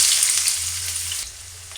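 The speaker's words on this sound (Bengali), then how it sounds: "পেঁয়াজটাকে দেখো আমি একটু হালকা করে ভেজে নেবো" Onions frying in hot oil with whole garam masala for a chicken curry, a close, steady crackling sizzle that fades a little toward the end, with no talking.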